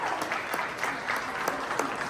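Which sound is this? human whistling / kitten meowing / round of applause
round of applause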